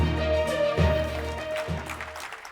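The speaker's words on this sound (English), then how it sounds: "a treat to have people clap for you in a room" A convention-room audience claps for a city council member taking the stage, a dense, steady wash of applause held at an even level for a couple of seconds.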